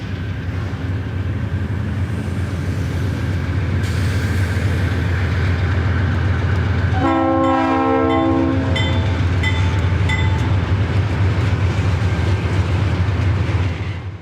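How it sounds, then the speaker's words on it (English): Nashville and Eastern locomotive NE03 rumbles steadily out of the yard heading east, its engine drone loud and continuous, then the horn sounds in sustained blasts partway through before fading back under the engine noise. "NE03 can proceed east out of the yard"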